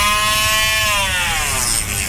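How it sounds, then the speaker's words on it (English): A handheld Dremel fitted with a 1/16-inch end mill drills through the aluminum skins of a B-29 wing, giving a loud, steady high-pitched whine whose pitch sags slightly near the end, with no talking. "I've got a 16th inch end mill here and just a handheld Dremel"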